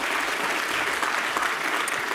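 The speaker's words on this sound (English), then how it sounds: "Can you generally help me give these guys a huge round of applause?" Conference audience at a machine learning symposium applauding steadily, a dense, even wash of many hands clapping throughout.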